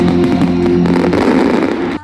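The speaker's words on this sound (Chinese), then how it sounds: "璀璨的烟火照亮七堵的夜空" Fireworks at the Qidu fireworks festival burst continuously across the night sky, forming a dense, loud wall of crackling booms that stops abruptly near the end.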